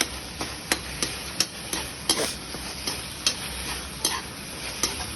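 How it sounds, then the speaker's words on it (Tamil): Ground tomato paste for a pirandai kuzhambu is fried in a pan with a faint sizzle under regular sharp ticks of a spoon tapping and scraping the pan, about two per second. "இந்த அரைச்சி வச்ச தக்காளி அதை போட்டு நல்லா வதக்க ஆரம்பிங்க"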